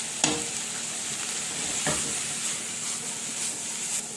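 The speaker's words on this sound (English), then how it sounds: "You just need to stir constantly so the onions heat evenly" Onions with salt and sugar sizzle steadily in a hot pan over above-medium heat, with faint scraping stirs now and then, close and continuous, no voices.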